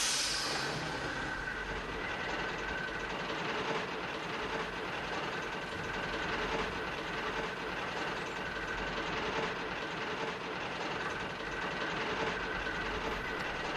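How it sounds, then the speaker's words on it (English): A train sets off and rumbles along steadily, a continuous rolling noise of wheels and carriages at moderate volume throughout. "Soon, Bob was coupled up to the train."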